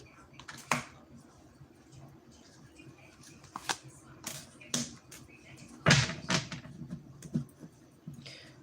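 Tarot cards being shuffled and drawn: a run of soft, scattered taps and flicks, with a few sharper slaps as cards land, quiet overall and spread irregularly through the stretch.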